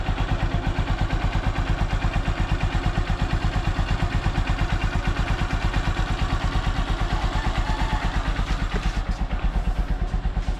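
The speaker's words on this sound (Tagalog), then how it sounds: "So ito pala yung andar ng aking Honda Supremo." A Honda Supremo motorcycle engine idling after a cold start, a steady, even chugging beat of rapid exhaust pulses close up, with no other sounds.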